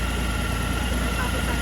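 A Honda Goldwing 1800cc engine idles steadily just after a new ECU was fitted, giving a continuous, even low rumble with no gaps, heard close up.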